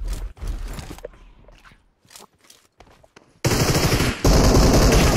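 Gunfire in the PUBG Mobile video game: single sharp shots and footstep-like thumps give way to a loud, sustained burst of rapid automatic fire near the end, close and dominant.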